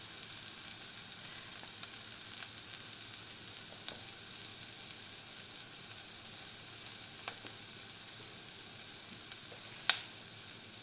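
Onions fry in a pot for a mushroom and pepper one-pot dish. The sizzle is a soft, even hiss throughout, with faint occasional pops and one sharp click near the end.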